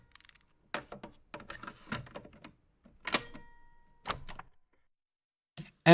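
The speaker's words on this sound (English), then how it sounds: "the cassette insertion and the tape play button" Cassette tape being inserted and its play button pressed, a run of close plastic clicks, clunks and rattles in irregular bursts with quiet gaps, alone without talk.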